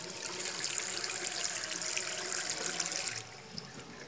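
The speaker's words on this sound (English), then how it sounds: "just wash it in the water once." Tap water runs steadily as a new Pureit Classic 23-litre Germkill kit is rinsed under a faucet, a continuous hissing splash that drops away abruptly near the end, leaving a quieter trickle.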